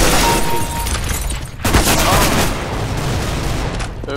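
Gunfire in Counter-Strike: Global Offensive, a burst of loud, close shots and impacts. Several sharp cracks cut through steady game background noise.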